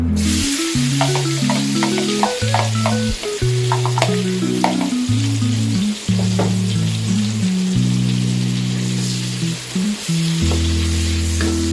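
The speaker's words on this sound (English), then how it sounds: "Fry the bawang bombay." Onions fry and sizzle in a hot pan for home cooking. A constant loud crackle and hiss runs throughout, with occasional stirring. Sustained musical tones play over it.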